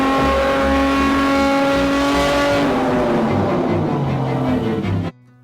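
A Porsche 911 GT3 RS engine, a car rebuilt after being flooded and prone to overheating, running loudly with a harsh, sustained high-revving roar that shifts pitch, then cuts off abruptly near the end.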